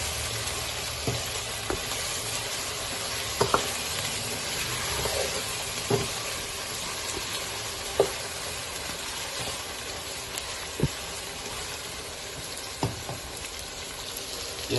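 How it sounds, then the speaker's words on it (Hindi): Meat with red chilli and ground coriander frying in a pot for matar gosht, a steady close sizzle with scattered pops and the occasional scrape of stirring, no voices. "इसकी अच्छी तरह बुनाई करते हैं"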